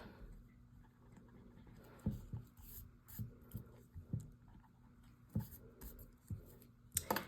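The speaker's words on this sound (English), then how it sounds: "and erase my pencil marks" A rubber eraser rubs pencil marks off a paper greeting card in short, quiet scrubbing bursts with soft taps between them, close and faint in an otherwise still room.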